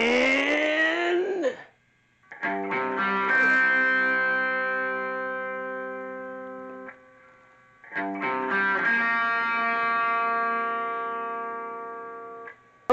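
Distorted electric guitar riff in standard tuning with gain and reverb, played twice, each phrase starting with quick picked notes and then sustained chords ringing out, loud and up close.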